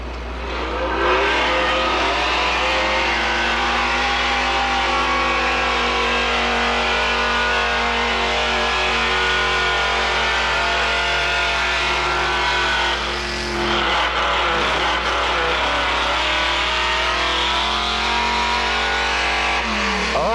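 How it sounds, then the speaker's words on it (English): Old Ford pulling truck from Holton, Maine revs hard and steadily at a truck and tractor pull, its engine note loud and sustained, dipping briefly midway before climbing again. "Fine pulling truck out of Holton, Maine."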